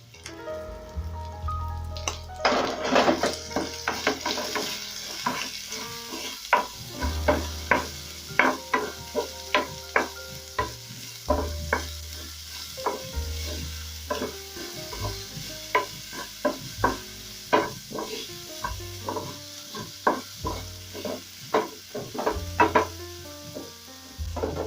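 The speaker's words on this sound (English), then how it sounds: "Then I'll also add in my garlic as well as my onions." Garlic and onions sizzle in a pan while being stirred, with frequent scraping strokes and clatter of the utensil over a steady low crackle, close and moderately loud, no talking.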